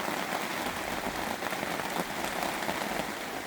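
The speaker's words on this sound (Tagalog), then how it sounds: "lakas na naman ang ulan" Heavy rain pours steadily on surfaces outside a house in Italy, a dense, even hiss without pause, fairly loud and close, with no voices.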